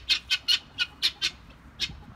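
A series of about seven sharp, raspy rooster squawks in quick irregular bursts, close and fairly loud, with no one talking.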